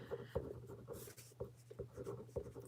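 A pen scratches names onto a piece of paper in a craft room, with soft, quiet strokes and small taps in an irregular rhythm over a low background hum.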